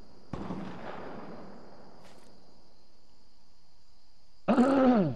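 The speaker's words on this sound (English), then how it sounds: "Getting shot at." Gunfire during a Fortnite match, with a sharp single shot followed by a long decaying echo, then a faint tick and a louder burst near the end, all over a steady high-pitched game tone.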